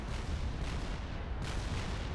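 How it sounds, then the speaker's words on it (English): Fatboy experimental units in the strategy game Supreme Commander fire their main cannons in a dense, rumbling barrage of overlapping booms, steady and moderately loud throughout. "You're seeing now the yellow dots of their main cannon fire"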